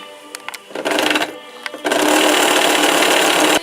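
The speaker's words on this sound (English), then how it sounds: "now we're going to sew a little bit to make sure I threaded that bobbin right" A Westinghouse model ALB sewing machine with a freshly threaded bobbin starts with a few clicks, runs in a short burst, pauses, then hums and rattles steadily at close range.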